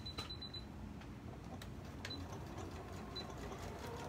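A sewing machine runs a straight stitch along the short ends of a garment cuff, giving a steady, continuous mechanical whir with faint light clicks and no talking.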